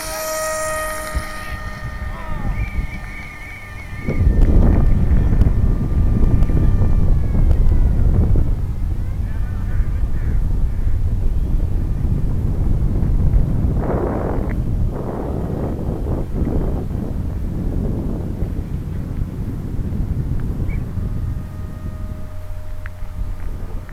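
An electric motor whines on a Dynam Hawksky RC plane during an autonomous takeoff. It sits close and loud under heavy wind buffeting on the microphone, with tones shifting as the throttle rises and the plane climbs away.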